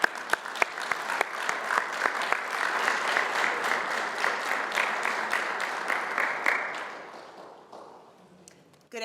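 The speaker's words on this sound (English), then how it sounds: "Please give them a big round of applause as they come." At a merger announcement event, an audience gives a sustained round of applause with a few sharp individual claps standing out, then fades to near quiet with light murmuring at the end.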